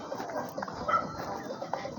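A large, gentle dog vocalises briefly with soft barks and whimpers during a walk through a residential area, close by amid light background noise.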